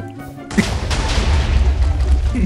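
A sudden loud blast goes off in Minecraft after a brief quieter moment, then gives way to a sustained roaring rumble with scattered crackles that stays strong to the end.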